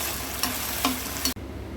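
Turmeric-cooked lentils hit a hot tempering in a pan, a dense steady sizzle with a few clinks of a spoon stirring, close and fairly quiet. The frying hiss drops abruptly near the end, and no one speaks.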